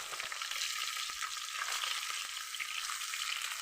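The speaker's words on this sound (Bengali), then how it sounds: "আসুন মাছটারে ভেজে নেই" Phasa fish fries in a pan with a steady crackling sizzle, quiet but close, dotted with small pops and spatters and no voices.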